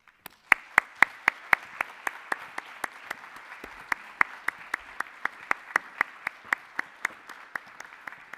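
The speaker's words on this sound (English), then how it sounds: "a gift of our gratitude and a round of applause" An audience at a university ambassador spring tea applauds people called up on stage for a gift, a steady wash of crowd clapping lasting several seconds, punctuated by sharp, evenly spaced claps from a nearby pair of hands, with no talking.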